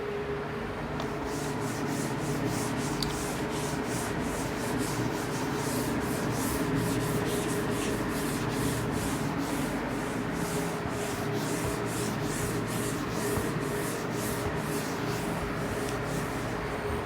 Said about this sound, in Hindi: चलिए मैं क्वेश्चन रब कर देता हूँ, फिर सॉल्व करते हैं।